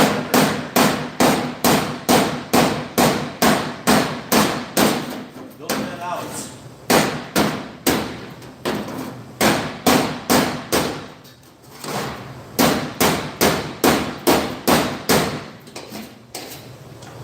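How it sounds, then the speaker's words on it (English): Steady, rapid hammer blows on metal, hammering out a low spot, ringing sharply in quick bursts with short pauses, and someone briefly speaking between strikes. "I'm going to take my hammer."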